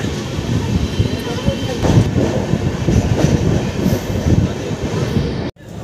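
Gomti Express passenger train pulling out of Firozabad station, heard from inside the coach: a steady, loud rolling rumble with rhythmic wheel clatter on the rails, ending in an abrupt cut.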